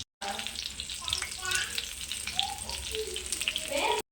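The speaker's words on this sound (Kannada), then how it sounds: "ನಾನು ಕರಿಬೇವು ಹಾಕ್ತೇನೆ ಟೇಸ್ಟ್ ಬರ್ಲಿ ಅಂತ" Curry leaves sizzle and crackle in a hot pan with a bright, continuous hiss close by, while voices talk faintly underneath.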